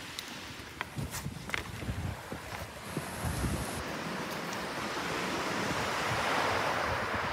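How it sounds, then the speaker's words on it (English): Surf breaking on a beach strewn with sticks, a steady broadband wash that swells louder toward the end, with wind buffeting the microphone and a few faint footstep-like thumps early on. "And look, this is a beach."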